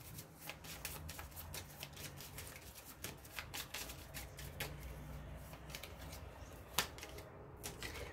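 Tarot cards are shuffled and drawn by hand at close range, a steady stream of soft riffling flicks and slaps with a sharper card snap near the end, no voices.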